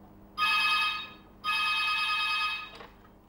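A telephone ringing in two long electronic bursts separated by a short pause, clear and close, followed by a brief click as the call is picked up.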